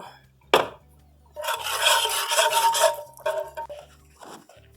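Flour-thickened white gravy is whisked in a pan, a steady scraping, rasping rub of the whisk against the pan in fast repeated strokes, close and fairly loud, with brief pauses and a low background hum.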